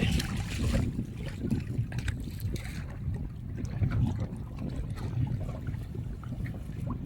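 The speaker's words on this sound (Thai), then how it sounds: "เขาเรียกว่าทะเลมีคลื่นเล็กน้อย" Small waves lap and slosh gently on a lake in light wind, a continuous irregular watery splashing close by, with faint wind noise underneath.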